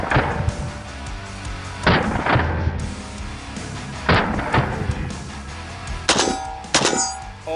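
A cursed AK-47 and PPSH-41 hybrid gun bump fired in bursts, sharp metallic reports cracking out in uneven clusters a second or two apart, loud and close.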